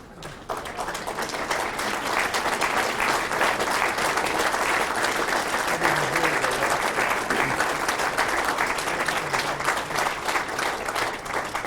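Sustained applause fills a hall at a Norden Club event for the King of Sweden, many hands clapping in a loud, unbroken wash that holds steady throughout.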